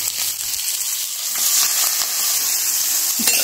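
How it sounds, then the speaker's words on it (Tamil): Hot tempering with curry leaves poured into a dish sizzles and hisses loudly and continuously at close range, with a few faint clinks of utensils. "வந்து கருவேப்பிலை போட்டாச்சு. தாளிப்பு இதில் கொட்டிடலாம்."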